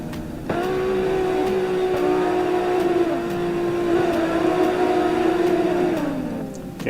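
A stock Toyota AE86 in Assetto Corsa holds a steady, loud engine drone for several seconds with slight pitch wavers as it slides, then the tone drops away near the end; no voices.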